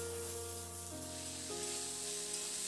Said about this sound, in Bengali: এবার আলু আর কাঁকরোলটাকে বেশ কিছুটা সময় ধরে নাড়াচাড়া করে বেশ লাল লাল করে একটু ভেজে নেব।